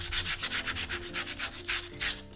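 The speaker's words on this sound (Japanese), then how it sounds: "ちょっと紙やすりで絵の具が立ちすぎてるとことかを削りたいんやけど" Sandpaper scrapes raised, not fully dried paint on a cherry blossom painting in quick back-and-forth strokes, about a dozen close, scratchy passes in a steady rhythm with no talking.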